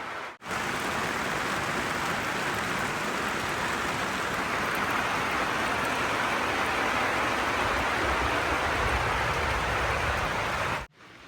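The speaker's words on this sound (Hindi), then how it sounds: "अभी भी बारिश कंटिन्यू है।" Heavy rain pours on the Himalayan mountain meadows at night, a steady, close, unbroken wash of noise that lasts about ten seconds, then cuts off abruptly. No one speaks.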